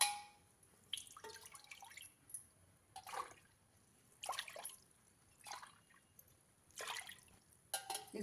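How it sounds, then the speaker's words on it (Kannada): Water poured from a glass into a pot on a lit stove, several separate splashing pours of four glasses with short pauses between, close and clear, no talk. "ಈಗ 4 ಗ್ಲಾಸ್ ನೀರು ಹಾಕ್ತಾಯಿದ್ದೀನಿ"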